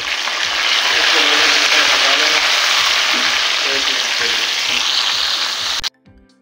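Large chopped tomatoes hit a pan of browned onions for an aloo shimla mirch curry, setting off a loud, steady frying sizzle with rhythmic stirring or scraping clicks that cuts off abruptly near the end.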